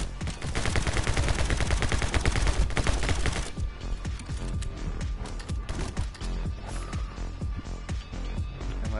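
Sustained video-game gunfire in My Friend Pedro, a fast, dense volley of shots for about three seconds that then thins into scattered, lighter bursts and action noise.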